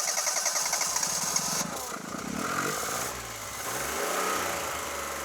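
A small Firefly engine cranks rapidly in a repeated rhythmic chug, trying to start but never catching, then gives way to a rougher uneven churning, close and moderately loud.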